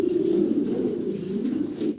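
Shallow pigeons, a trio of two hens and a cock with eggs, cooing in a steady, close, continuous low murmur with no pauses.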